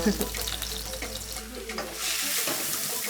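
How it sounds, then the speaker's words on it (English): Steady sizzle of cumin seeds frying in hot oil, a dense crackling hiss that swells louder toward the end, with a few light clinks. "we're going to put in some cumin seeds. Hear those sizzling."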